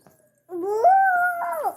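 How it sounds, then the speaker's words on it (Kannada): A single drawn-out dog howl, close and loud, rising then holding steady before dropping off after about a second. "ನಾಯಿ"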